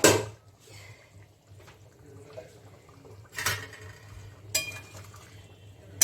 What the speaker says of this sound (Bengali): এখন আমি ঢাকনাটা খুলে দিচ্ছি।